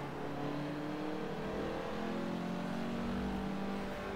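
A car engine in the racing game Forza Motorsport 7 revs and pulls steadily with a droning, rising tone, heard from the cockpit view and close throughout, with no talk over it.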